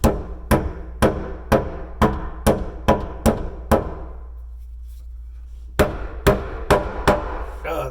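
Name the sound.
hammering to pull a counter top miter joint together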